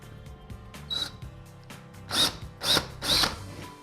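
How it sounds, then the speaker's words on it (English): Several short bursts of a power drill with a 1/4-inch bit boring into a wall, each a few tenths of a second, with quiet pauses between. "I'm using a 1/4-inch drill bit."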